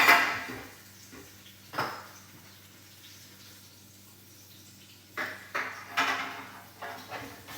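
Oxtails go into a small pan with a few clanks and knocks of metal cookware, one sharp clink near the start and a cluster of handling sounds toward the end, set against quiet kitchen background.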